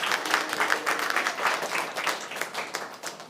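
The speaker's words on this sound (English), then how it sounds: "Put the clap for him anyway." Steady audience applause at a school awards ceremony, a dense patter of many hands clapping continuously, moderately near, with no talk over it.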